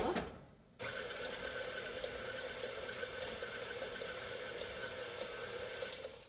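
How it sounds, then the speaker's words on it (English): A KitchenAid stand mixer churns a meatball mixture for oriental meatballs, starting after a brief quiet moment and then running as a steady, even motor whir with a slight rhythmic beat, fairly close and alone. "now we just use the KitchenAid and we mix this stuff up"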